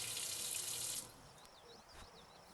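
Water gushes steadily from a tap into a small bath for about a second, then cuts off, leaving a quiet room with faint high squeaks and a soft splash.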